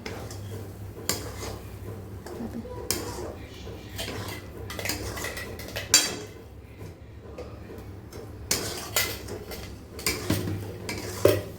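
Prawn malai curry being stirred in a pot after salt goes in, with repeated metal spoon clinks and scrapes against the pot over a low simmering sizzle, close and irregular, with no talking.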